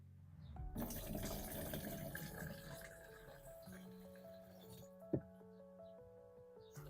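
Fungicide paste solution being poured into a large container of water for treating melon and watermelon plants, starting as a gushing splash that fades into a thin trickle, with a voice and a clunk toward the end.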